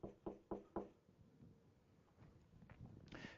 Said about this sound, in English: there's a knock at your door.